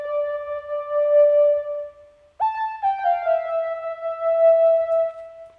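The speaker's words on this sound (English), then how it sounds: "But with the portamento on, it sounds like this." A spacey synth lead one-shot plays a short melody of sustained tones, with portamento sliding smoothly between notes. It is clean and moderately loud and has a short gap partway through.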